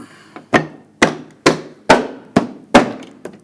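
Six sharp, evenly spaced taps as front grille trim on a 2014-2018 GMC Sierra is knocked into place, close and loud with short decays, no talk.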